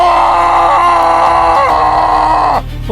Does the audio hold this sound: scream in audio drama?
yes